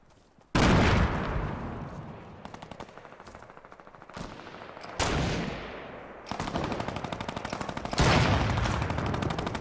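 Automatic weapon fire in a Fortnite match, long rapid bursts of machine-gun shots rattling loudly and close, broken by brief gaps and sharp single booms, with no speech.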